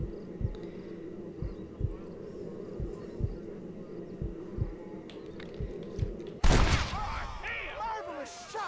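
A gunshot in the Red Dead Redemption video game rings out as a loud, sharp blast after a long stretch of rhythmic low thumps and game noise, with a bright ringing tail fading over the final seconds.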